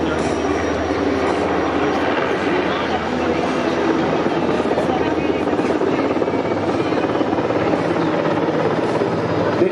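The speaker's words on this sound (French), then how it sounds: "L'hélicoptère fait partie de ces engins qui ont la capacité de se déplacer absolument dans les trois dimensions." A French navy NH90 helicopter flying at the Hyères naval air base centenary air show, its loud, steady rotor thump and turbine roar close by, with a voice talking over it.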